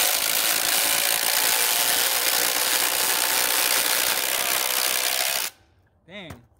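A Kobalt XTR 24V and a Milwaukee Fuel Gen 3 impact driver run together, driving screws into wood in one loud, steady burst of hammering and whirring for about five seconds. It stops abruptly, followed by a brief voice.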